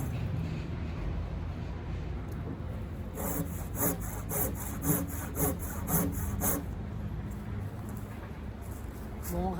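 A handsaw works through a 65mm-thick wooden plank along a rail, with close rhythmic rasping strokes that grow sharper and more regular midway over a low background rumble.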